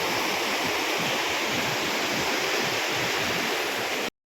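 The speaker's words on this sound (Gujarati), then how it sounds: "ગાંડી ગીરની આન બાન અને શાન એવો હા જમજીરનો ધોધ હો ભાઈ, કાંઈ ઘટે નહીં" Jamjir waterfall in Gir running full in summer, a continuous loud roaring rush of falling water that cuts off abruptly near the end, with no voices.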